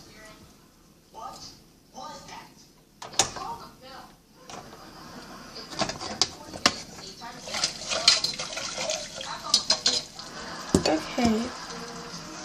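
Potatoes frying in a pan give a steady sizzle with scattered crackles and pops, mixed with stirring scrapes and small clatters, while a person talks now and then over the cooking.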